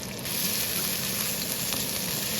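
Chopped garlic and ginger frying in three tablespoons of hot oil in a pan, giving a steady, even sizzle with a faint crackle, close and alone throughout.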